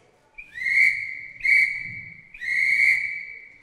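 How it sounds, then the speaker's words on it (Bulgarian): Police whistles blown three times in succession, each a shrill sustained blast with a slight upward slide at the start, loud and close with no talk around them. "Полицаи ще надуват свирките си."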